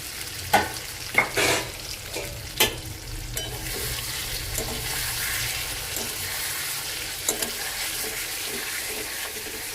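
Eggs going into fried spice paste in a pan, with a soft ongoing sizzle and a few sharp clinks and scrapes of a spoon early on, nearby and moderate in level, with a faint water-like hiss and no talking.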